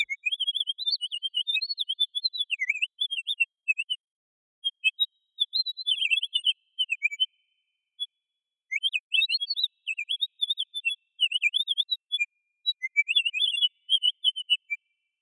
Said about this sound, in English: So now we have multiple birds.